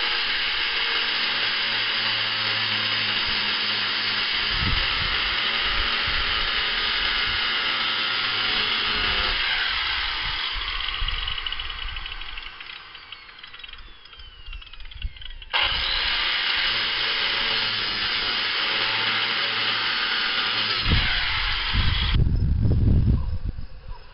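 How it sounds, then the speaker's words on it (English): Angle grinder cutting on a stuck hay baler part during third-crop hay harvest, a loud sustained whine that dips and rises as the tool bites, with a brief pause midway and rougher scraping near the end. "Next, we're gonna take the grinder."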